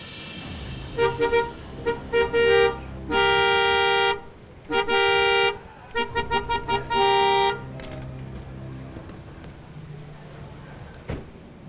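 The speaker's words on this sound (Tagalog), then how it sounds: "Hindi mo ba narinig yung busina ko?" A car horn honks repeatedly in a parking lot: a run of short taps, then long sustained blasts, followed by more quick bursts and a final long blare, loud and close with faint background noise after.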